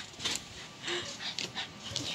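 A dog indoors at bedtime pants and whimpers softly, making quick breathy puffs in an uneven rhythm, faint but close, with no voices.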